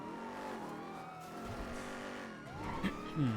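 A car in GTA V on the NoPixel roleplay server skids and spins out during a chase, with tyres squealing through a sliding turn, engine revving up and down, and a sharp screech near the end.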